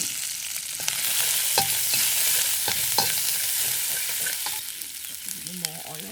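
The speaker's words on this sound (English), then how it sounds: "using the same wok, so I put some ginger in it first" Ginger and green onion stir-fry in a wok with a loud continuous sizzle, broken by several sharp scraping strokes of the spatula as the pieces are tossed.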